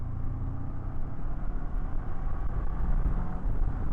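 A 2024 Honda NX500 motorcycle engine pulls through a third-gear roll-on, a steady low droning rumble that rises gradually in loudness, heard from the rider's position with wind noise.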